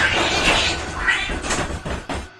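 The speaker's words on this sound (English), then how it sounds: "cats fighting right outside my window" Cats fight outside a window, yowling and screeching in rising and falling wails with a few sharper cries toward the end, heard through the glass against a rumbling background.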